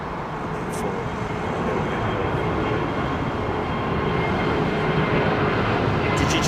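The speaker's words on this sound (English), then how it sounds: "Did you just see that Dreamliner" A Boeing 787 Dreamliner moves across London Heathrow, a distant, steady broadband jet rumble holding throughout at moderate level.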